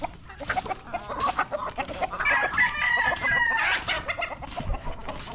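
Several chickens cluck in a close, busy chorus while a rooster crows loudly through the middle, fed flock at a rooftop house.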